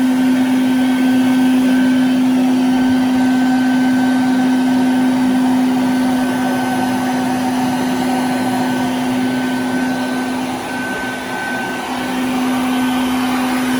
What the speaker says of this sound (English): we're gonna introduce her to the vac. Turn it on and pull the hose.